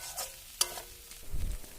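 Spice masala with slit green chillies sautéing in a pan for a rohu fish curry, a short burst of sizzling with a sharp utensil clink and a low thud near the end.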